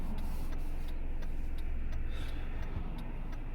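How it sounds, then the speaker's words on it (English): Road traffic passing a person outdoors, a steady low rumble of car tyres and engines holding at an even level throughout, with no voices. "Waiting for these cars to go by."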